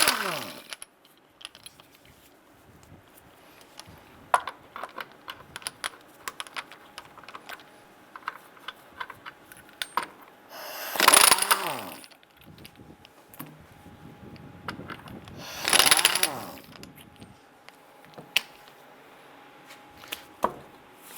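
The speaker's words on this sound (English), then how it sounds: "Using our 7/8 socket, we're going to head loosen and remove our lug nuts" A socket wrench on a 2002-2008 Dodge Ram 1500 rear wheel loosens lug nuts with sharp clicks and ratcheting taps, plus two longer bursts of whirring from an impact tool, all close and fairly quiet.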